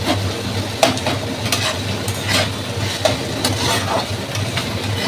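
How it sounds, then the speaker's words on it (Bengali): Poppy seed (posto) dish frying in a pan, a continuous close sizzle with repeated scraping spatula strokes every second or so and a low background hum. "চলো এটা আবার একটু ভাজা ভুজা হয়ে যাক"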